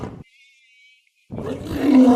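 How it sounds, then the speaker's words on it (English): A lion roars in one loud, rough burst, briefly pausing before the deep, gravelly roar swells and grows stronger toward the end, heard alone and close. "Lion."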